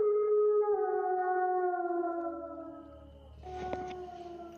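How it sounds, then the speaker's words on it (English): Distant howl, a long sustained wavering tone that slowly falls and fades, followed by a fainter second rising howl over a low rumbling background. "you hear a howl in the distance"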